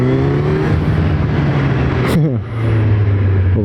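A Kawasaki Z900 ABS motorcycle engine drones loud and close under hard acceleration, its pitch climbing steadily, dropping briefly at a gear change, then rising again.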